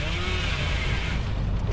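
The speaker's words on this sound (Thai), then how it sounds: "ยกเลื่อย" Chainsaw revving steadily in the Dead by Daylight horror game, a loud continuous buzzing motor drone held throughout with no talk over it.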